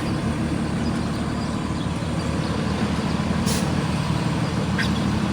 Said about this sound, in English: Walking by trucks like this that make a lot of noise in a controlled way